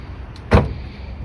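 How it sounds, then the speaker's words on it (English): A 2011-2018 Chrysler 300 trunk unlatching, a single short thunk-like release with a brief mechanical click just before it, close and isolated against quiet background. "Trunk opens."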